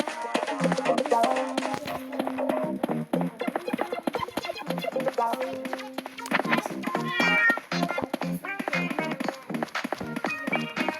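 Cat meowing in the video game PK XD, several short meows over game music with light tapping, steady and moderately loud, with a voice chatting faintly.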